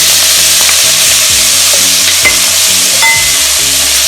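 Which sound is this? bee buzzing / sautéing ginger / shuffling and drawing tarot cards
sautéing ginger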